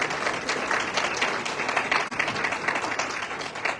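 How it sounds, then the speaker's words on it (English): A school board meeting audience applauds its board of education, a steady wash of clapping that runs for several seconds with a brief dip midway. "let's give our board one more round of applause"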